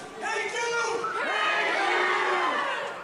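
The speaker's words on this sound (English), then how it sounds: "This crowd is fired up." A fired-up pro wrestling crowd roars and cheers, with loud sustained shouting and whoops swelling across the arena.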